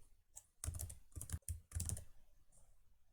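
Close, quiet typing on a computer keyboard while entering a spreadsheet formula, with a quick run of clustered key clicks and short pauses and no voices.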